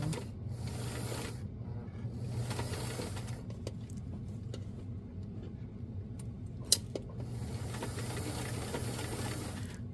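A sewing machine stitching a zipper onto a winter puffer coat hums in low, steady bursts of stitching, quiet and close, with a few small clicks and a brief tap partway through.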